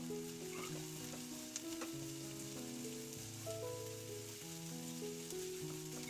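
Sliced onion and green chillies fry in oil for an egg roast with a soft, continuous sizzle, quiet and close. Sustained musical tones play over it throughout.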